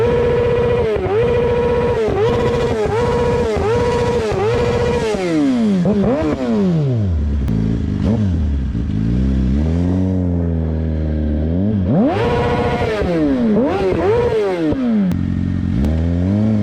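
A sport motorcycle rider revs the engine hard on a road, apparently to taunt police: loud, close, repeated throttle blips with rising and falling pitch, sustained high revs, then the engine settling to a lower drone before revving up again.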